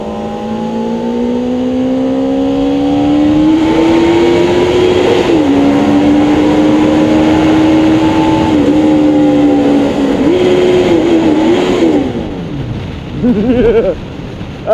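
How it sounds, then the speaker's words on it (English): A car exhaust revving hard inside a tunnel, a loud booming engine note that climbs and holds with echoing reverberation, shifting pitch several times before dropping off near the end. "Gotta love that tunnel exhaust."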